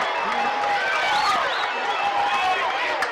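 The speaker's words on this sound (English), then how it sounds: "Oh man, the Malvern crowd is on its feet, though." A high school football stadium crowd on its feet cheering at a Malvern game, a broad roar of many voices under a commentator talking throughout.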